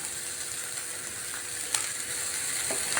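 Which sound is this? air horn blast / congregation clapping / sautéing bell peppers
sautéing bell peppers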